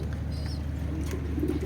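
Racer pigeons cooing softly and low, a steady murmuring coo with a few faint higher chirps, at moderate distance with no talk over it.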